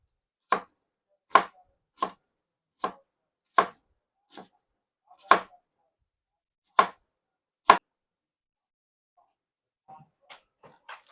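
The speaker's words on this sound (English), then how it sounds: "And then we are also going to add to this some red onion, which again, we're just going to try and slice" A knife slices a red onion thin on a cutting board, giving a series of sharp, separate blade knocks at a steady, unhurried pace, close and clear with no talk, then a few softer taps at the end.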